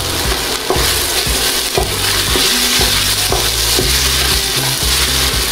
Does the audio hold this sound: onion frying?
yes